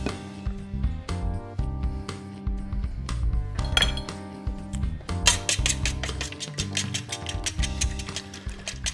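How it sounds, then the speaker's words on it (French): A fork beats eggs and oil in a bowl, making quick, close, irregular metallic clinks and taps against the dish that carry on steadily throughout. "On bat les œufs et l'huile à la fourchette, surtout pas au fouet."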